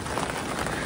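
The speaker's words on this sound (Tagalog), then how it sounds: "Lumakas ang ulan." Heavy rain pouring steadily at a campsite in Bataan, Philippines, a dense, loud, unbroken hiss filling the brief moment with no voices.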